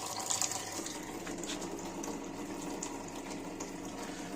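Three small 12 V pumps of a homemade mini-tractor sprayer hum quietly while water flows steadily, a faint continuous gush with no voices.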